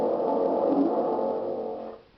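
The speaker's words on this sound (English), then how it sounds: "Spring drum, thunder drum, sounds like this." A homemade spring drum, or thunder drum, gives off one sustained, reverberant metallic rumble with a watery, echoing wash that fades out after about two seconds.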